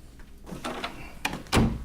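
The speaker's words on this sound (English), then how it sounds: "If that is all, I'm going to close the door." A door closes in a TV comedy episode: a few soft scuffs and creaks as it swings, ending in a firmer low thud of the door shutting, with no talking.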